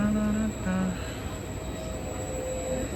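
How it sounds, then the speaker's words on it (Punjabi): A train rumbles into a station in Latina, Italy, with high metallic wheel squeals at the start, then a steady loud rolling noise that continues throughout. "ਟ੍ਰੇਨ ਆਪਣੀ ਵੀ ਆ ਗਈ"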